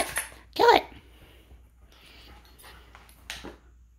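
Rat terriers play with a squeaker toy nearby, giving a sharp squeal or yelp-like burst near the start among quieter scuffling and faint vocal noises.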